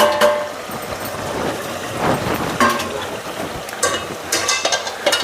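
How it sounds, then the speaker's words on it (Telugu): Shelled dal is stirred into masala frying in hot oil in a village kitchen, giving uneven scraping and stirring bursts over a soft sizzle. It is close and fairly loud, with no voices. "పితికి పప్పును వేసి కాసేపు ఈ ఆయిల్లో ఈ మసాలాలు ఫ్రై అయ్యేలాగైతే కలుపుకుందాం"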